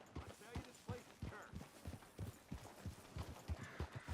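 Horse hooves in the Western video game Red Dead Redemption 2: a steady clip-clop of a horse walking, evenly spaced hoof strikes, fairly close and moderately quiet, with no talk over them.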